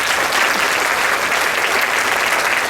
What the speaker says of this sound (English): Please give her a very big round of applause.